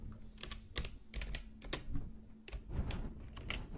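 Quiet, close keyboard typing: a quick run of soft key clicks in uneven bursts, with no voices.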